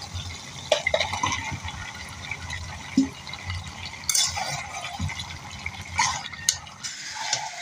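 Pumpkin pieces are tipped into a pan of sautéed vegetable stems, making close wet splashes and soft clinks of utensil on pan over a low background sizzle.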